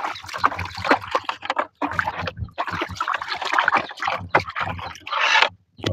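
Motorcycle fairings are rinsed with clean water, giving a loud, steady run of splashing and sloshing with scraping handling noises and brief pauses.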